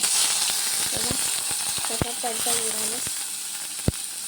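Mustard seeds sizzle in hot oil with a soft hiss, broken by a few sharp pops and small crackles and a brief utensil clink near the end.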